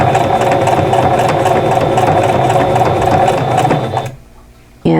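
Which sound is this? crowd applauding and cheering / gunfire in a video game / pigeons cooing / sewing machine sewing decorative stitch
sewing machine sewing decorative stitch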